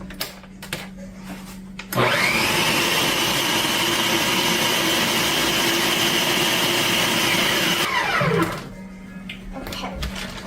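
A food processor blends a chocolate truffle mixture, starting abruptly and whirring loudly and steadily for about six seconds before spinning down, with quiet room sounds on either side.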